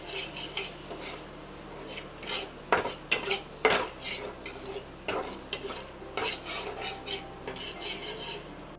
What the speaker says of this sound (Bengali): এবার পুরোটা মিক্স করে আর একটু কষিয়ে নেব।